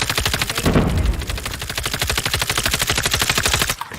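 Rapid automatic gunfire in Call of Duty Mobile, a continuous, evenly spaced burst of loud shots that goes on for several seconds before stopping abruptly, with no voices over it.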